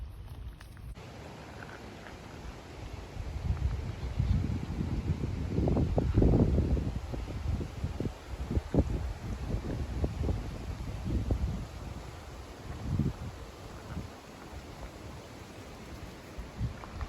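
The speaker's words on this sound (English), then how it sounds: "Wind coming past us." Wind blows past on an outdoor walk up over a ridge, rumbling and buffeting the microphone in gusts that swell and fade, strongest midway. No one speaks.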